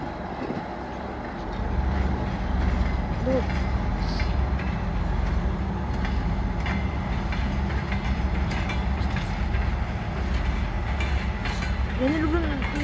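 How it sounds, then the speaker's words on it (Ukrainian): An electric commuter train heading into the depot in Lviv rolls by with a sustained rumble and clickety-clack of wheels, plus brief squeals of wheels on rail near the end. "А ту електричка вже в депо їде."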